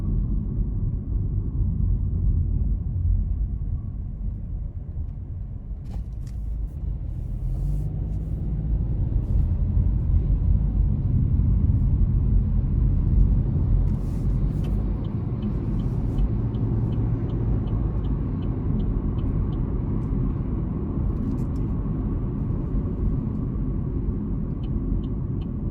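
A 2021 Chevrolet Trailblazer LT with a 1.2L turbo engine drives on the road, a steady low rumble of engine and tyre noise heard from inside the cabin, with faint ticks and clicks scattered throughout.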